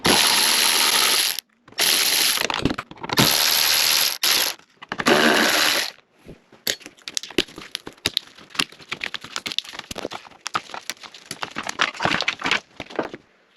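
Ratchet wrench loosening T30 bolts on the lower timing cover of an Audi Q5 2.0T engine, with several loud bursts of continuous clicking, then a long run of sparser, quicker clicks and rattles close up.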